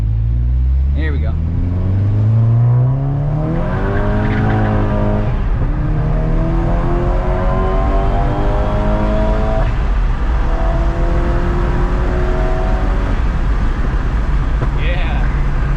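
A tuned Volkswagen MK6 GTI on a Stage 3 K04 tune pulls hard through a tunnel, its engine note climbing loud and close through the gears with reverberant booming and brief shift breaks. People talk over it.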